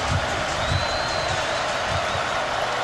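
Football stadium crowd at a 2017 Tulane vs Oklahoma game roaring on third and five, a dense, steady wall of cheering with whoops and rhythmic thumps underneath, while a commentator's voice runs over it.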